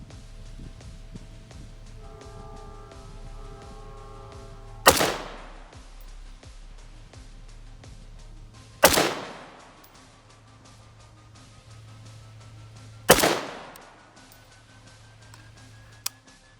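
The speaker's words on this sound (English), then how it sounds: "3 shots unsuppressed" Three loud unsuppressed rifle shots at an outdoor range, each a sharp crack with a ringing decay, spaced about four seconds apart over a low steady background hum.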